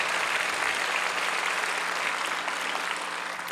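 Steady applause from a church congregation at a peace-unification prayer rally at the War Memorial in Yongsan, a dense unbroken clatter of many hands held at even loudness throughout.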